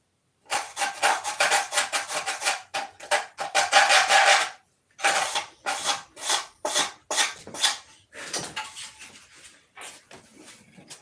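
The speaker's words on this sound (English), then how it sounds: "Just sand this a little bit." A part from a P-47 model assembly is sanded by hand in quick back-and-forth rasping strokes. They come close and clear in uneven bursts with short pauses between them, and no one talks.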